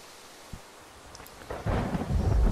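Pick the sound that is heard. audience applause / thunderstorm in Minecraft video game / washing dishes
thunderstorm in Minecraft video game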